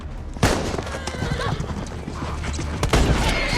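Horse in The Last of Us season one, episode eight, whinnying over the busy clatter of hooves, with a sharp loud impact near the start and another near the end, all close and dense.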